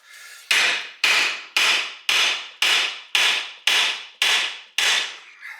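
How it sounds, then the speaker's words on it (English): A 3-pound hammer strikes a chisel on the front end of a 1968 Pontiac GTO A-body during teardown, giving nine sharp, loud, evenly spaced metallic blows about half a second apart, close up with no talk. "I'm using a 3-pound hammer."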